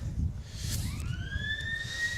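A rising electronic siren wails at an Australian football match, a drawn-out tone climbing and then holding over low crowd rumble, fairly distant and alone without talk.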